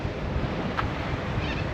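Waves washing against the rocks at the Bare Island rock fishing spot in La Perouse, a steady broadband wash with wind noise throughout and a brief surge near the middle.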